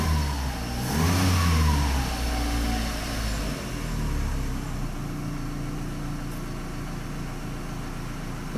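Volkswagen Gol G5 engine revved briefly while idling at operating temperature, a rising throttle blip near the start that settles back into a steady idle hum, close and alone without talk.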